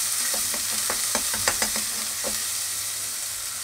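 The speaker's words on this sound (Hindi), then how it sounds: "थोड़ा गोल्डन होने देते हैं प्याज को।" Sliced onions fry in a pan with oil, a steady loud sizzle broken by a few soft scraping stirs of a spoon, close up.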